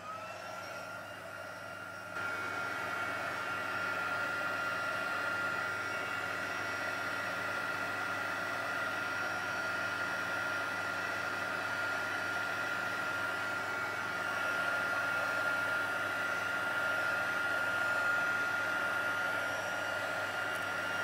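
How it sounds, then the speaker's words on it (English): A heat tool drying ink on a handmade card gives a steady, close, fan-like whoosh that starts abruptly after a brief quiet moment and continues evenly for the rest of the stretch. "let me bring in the heat tool and we'll just make sure that that's fully dry before we pop the card together"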